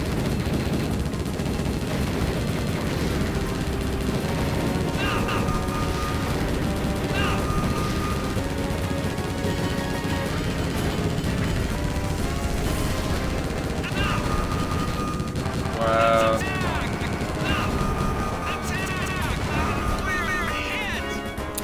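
Rapid arcade gunfire from Konami's 1996 rail shooter Operation Thunder Hurricane, a steady barrage of shots over continuous game music and effects, loud and unbroken throughout.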